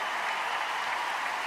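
Sustained applause from an arena crowd at the World Figure Skating Championships in Montréal, a dense, steady wash of clapping heard from within the audience with no voices standing out.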